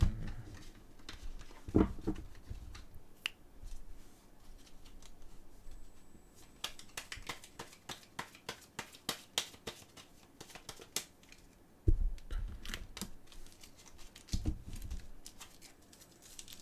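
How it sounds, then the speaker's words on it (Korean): Tarot cards being shuffled by hand, a run of quick crisp riffles and soft patting taps, close and fairly loud, with no talking. "그 전에 카드 한번 좀 써볼게요. 셔플 타임."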